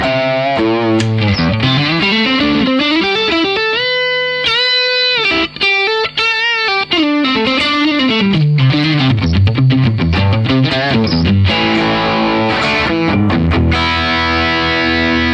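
Electric guitar through a Marshall Bluesbreaker overdrive into a Marshall SV20H amp plays loud, gritty single-note lines and bends, then chunky distorted chords, alone and up close.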